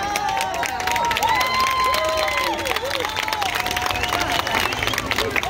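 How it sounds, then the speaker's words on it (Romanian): Audience applause and cheering for graceful young dancers at an Arad city festival event, a steady crowd roar with clapping throughout, loud and close, with festive music or voices mixed in. "Aplauze lor!"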